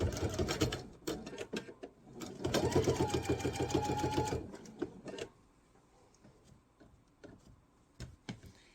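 Sewing machine stitching binding around a quilt corner, a rapid rhythmic clatter in bursts, running steadily in the middle and then dropping to scattered ticks and taps as the work is handled.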